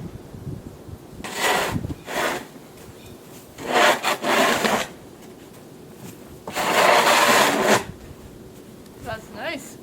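A snow shovel scrapes and scoops up snow in three rough, loud scraping passes of one to two seconds each, separated by quieter pauses, with a short scuff at the end.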